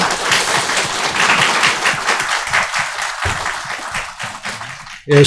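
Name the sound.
church congregation applause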